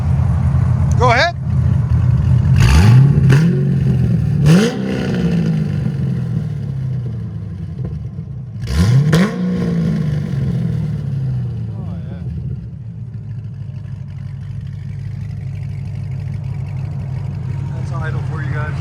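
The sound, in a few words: 2008 Corvette Z06 7.0L V8 exhaust revving, Kooks headers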